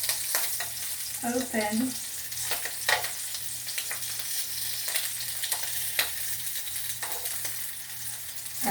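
Chicken wings deep frying in baskets of hot grease give a steady, crackling sizzle with scattered louder pops and clanks of handling; a brief spoken word cuts in once.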